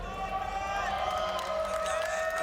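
A crowd cheers and whoops for Optic Gaming during a Gears of War 4 grand final at the Columbus Open esports event, a continuous roar of voices under music and a caster's amplified voice.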